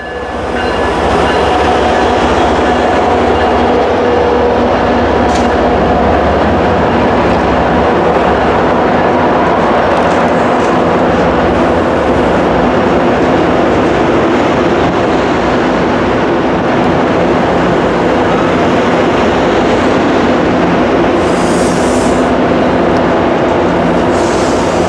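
A passenger train rolls loudly and steadily through South Station in Boston, a continuous close rumble with wheel noise and faint squeals, no voices over it.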